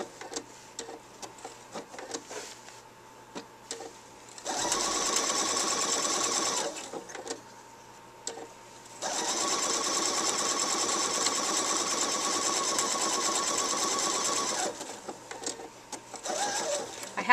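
A PFAFF Expression 4.0 sewing machine with a 9 mm open toe foot stitches a blanket stitch applique in two steady running bursts, a short one and then a longer one, with quiet pauses and handling between them.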